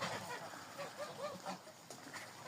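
Soft quacking from several young Muscovy ducks, faint and a little distant, repeated irregularly over a low background hiss.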